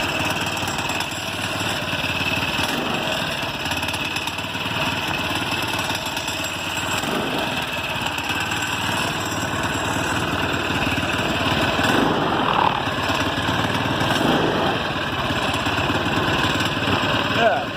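A Predator 212 engine on an ATV with a rebuilt, rejetted carburetor runs steadily at a constant droning pitch, with someone talking over it.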